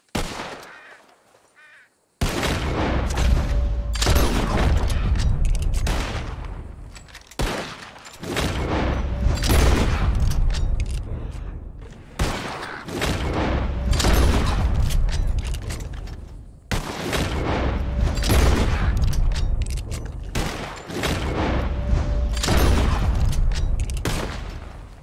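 Gunfire in Red Dead Redemption 2, loud repeated bursts of shots with booming reports, coming in several clustered volleys after a brief quiet start, with no talking.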